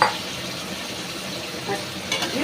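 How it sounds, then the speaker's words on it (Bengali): Prawns sizzle and fry in a hot pan with a tablespoon of vinegar for prawn chow mein, a steady close crackling hiss with light stirring scrapes throughout and no talk. "আর এই 1 টেবিল স্পুন ভিনিগার দিয়ে প্রনটা দিয়ে দিলাম।"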